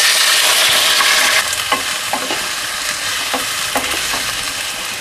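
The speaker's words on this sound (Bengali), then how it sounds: "কেটে রাখা আলুগুলো ভেজে নিচ্ছি" Cut potatoes fry in mustard oil in a pan for Bengali ghugni, a loud steady sizzle at first that settles lower, broken by a few sharp scraping stirs near the mic.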